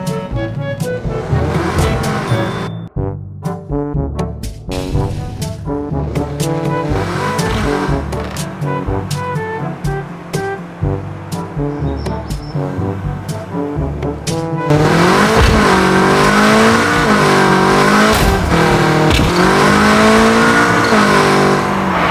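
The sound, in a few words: Mitsubishi Evo 9 car driving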